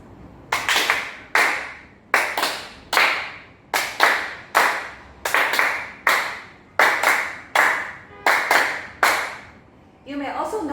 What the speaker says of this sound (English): It's just a double clap with a single clap 6 times